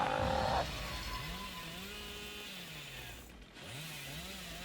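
Chainsaw revving in a video game, a steady high whine with gliding rises and falls in pitch, continuous throughout apart from a brief dip near the end, with no talking over it.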